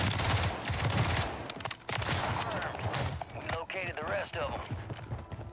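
Rapid bursts of FJX Horus SMG fire in a Call of Duty style match on Rebirth Island, a dense rattling stream of shots in the first half giving way to voice chatter and scattered game noise.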